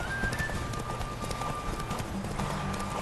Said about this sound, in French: Ah, mon cheval qui bug, quoi.